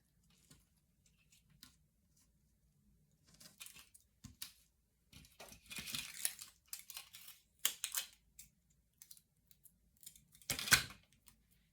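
Scissors snip small paper dots for craft lettering, giving quiet, scattered cuts in short irregular bursts with pauses between them, close up, with no voices.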